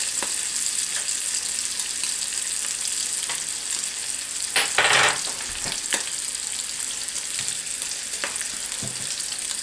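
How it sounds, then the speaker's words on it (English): Sausage frying until crispy in a pan, a steady close sizzle and crackle throughout with occasional scraping or stirring noises and a brief louder hiss midway. "And I want my sausage very fine and nice and crispy."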